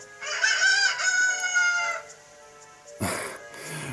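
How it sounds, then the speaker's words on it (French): A rooster crows from an RPG Maker Fes video game, a bright, harmonic cock-a-doodle-doo lasting about two seconds, followed by a short burst of noisy game sound effects. "Le cri du coq."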